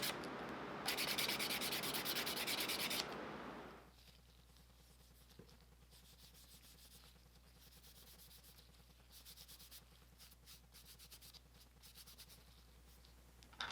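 Steady scratchy rubbing of sandpaper on wood by hand, loud and close for a few seconds, then quieter intermittent scraping and light taps.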